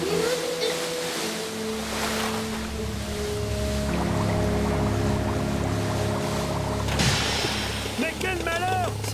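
A small boat's motor drones low and steady beside water and wind, then sputters and cuts out near the end, with voices talking over it throughout.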